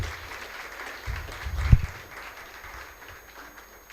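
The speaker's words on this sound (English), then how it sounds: "I want you to join me in giving them a round of applause" Audience applause at a youth awards ceremony in Vieux Fort, fairly faint and diffuse clapping from a hall crowd, with a brief louder thump near the middle before it tapers off.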